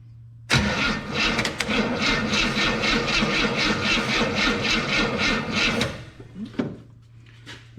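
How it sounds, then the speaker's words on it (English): A Pontiac Tempest's overhead-cam six-cylinder engine cranks over on a weak battery, a steady rhythmic churn for about five seconds that stops abruptly, followed by brief clicks and rustles. "At least we know that it cranks over."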